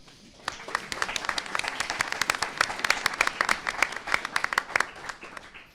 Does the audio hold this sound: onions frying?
no